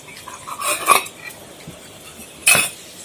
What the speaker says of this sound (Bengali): বাটিটা এখন আমি সরিয়ে নিচ্ছি।